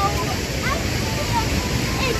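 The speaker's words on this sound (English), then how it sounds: "I'm here enjoying the sound of the waterfall over there. Pretty loud, you know." Troll Falls in Kananaskis, Alberta: a waterfall roaring as a steady, loud, broadband rush of falling water with no pauses, a few faint voices faintly audible over it.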